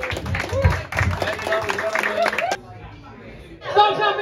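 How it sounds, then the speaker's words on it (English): Comedy club audience clapping at a stand-up set's close, a dense burst of applause with voices through it, cutting off abruptly, then a short quieter gap before another loud burst of clapping and crowd noise. "Stop clapping then!"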